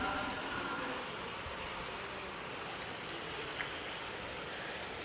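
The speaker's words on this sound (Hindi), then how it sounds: "आवाज़ से पता चल ही जाता है कि हाँ बारिश कितनी तेज़ आ रही है" Heavy rain pours down in a dense, unbroken hiss that stays loud and even throughout, with a faint low rumble beneath and one small tap near the end.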